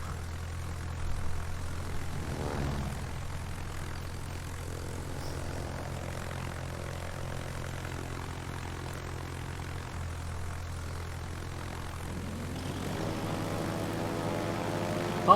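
Swordfish bomber planes from World of Warships, launched off the carrier Ark Royal, drone steadily with propeller engine noise throughout, a rising engine pitch sweeping up near the end.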